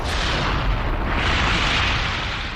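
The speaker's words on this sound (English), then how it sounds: "This film of a military test shows what happens during an explosion." A military test explosion roars as one loud, sustained, broadband blast rumble with a deep low end that fills the whole span without letup.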